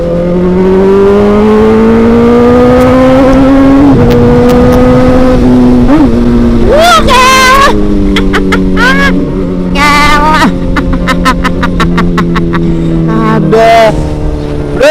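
A big motorcycle ridden fast, its engine droning loud and steady close by with rising and falling pitch as it accelerates and shifts; someone talks over the engine noise.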